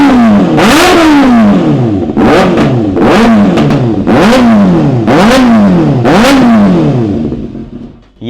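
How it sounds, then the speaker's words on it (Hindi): Kawasaki ZX6R motorcycle with an Axle Carrera short-can exhaust revving hard in six sharp, rising-and-falling blips, loud and close with a steady engine drone between bursts, fading at the end. "ये थी एक्सिल करेरा शॉर्ट कैन की साउंड।"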